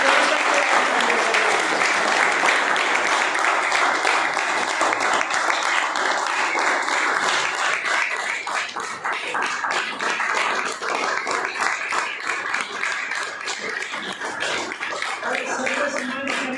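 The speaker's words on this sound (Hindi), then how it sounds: "आप लोगों की ज़बरदस्त तालियों के बीच में" A large audience at a Modicare event in Hisar claps loudly and continuously to welcome a speaker, with rhythmic clapping and a voice speaking over it.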